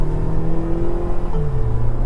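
A Tata Safari with a petrol engine accelerates, its steady close engine hum rising in pitch as it pulls, with road and tyre noise underneath.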